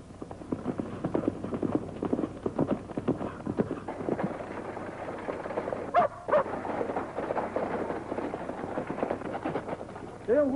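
Rapid hoofbeats clip-clop steadily throughout, a horse moving at a brisk pace close by, with a brief pause near the middle before the hooves resume.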